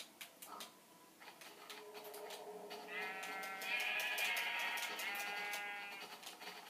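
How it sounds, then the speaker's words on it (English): Sheep in the Minecraft video game bleat in a drawn-out, wavering cry at moderate volume over soft game ambience, following a few faint clicks. "That's another sheep!"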